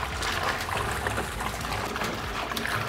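Water pouring out of an upturned glass carboy while it is emptied, a steady gurgling trickle and splash running continuously at close range with no talk.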